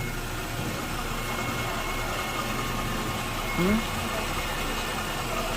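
A 2017 Ford Explorer police SUV with a 3.7L engine idles steadily at close range, a constant low hum and broadband noise with no voices over it.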